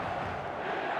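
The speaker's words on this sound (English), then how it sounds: "The stadium is full of noise and energy." Stadium crowd noise from an eFootball match in a packed stadium, a steady, moderately distant roar of many voices with no breaks, sitting alone at low level.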